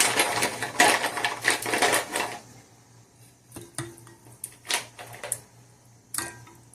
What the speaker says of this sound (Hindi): अब हम इसमें जो आइस क्यूब डालेंगे